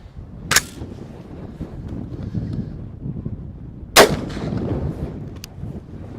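Two sharp, loud gunshots about three seconds apart as Hornady hollow point rounds are fired into pumpkins at an outdoor range, with a faint third crack near the end.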